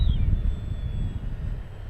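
An FMS Super EZ Trainer RC airplane on a 2200 battery pack comes in to land, its electric motor giving a thin high whine above steady low wind rumble outdoors. The sound is moderate and continuous.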